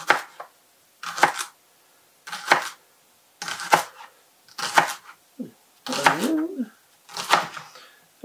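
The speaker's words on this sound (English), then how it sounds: "Onion masher." An onion masher crushes onions during home cooking, giving a run of eight repeated squelchy, crunchy pressing strokes at a steady rhythm, close up and fairly loud, with brief pauses between each push.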